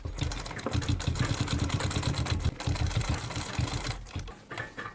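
A sewing machine runs a diagonal cross stitch along a folded fabric strip, its rapid needle chatter steady and close for several seconds before easing near the end, with no voices.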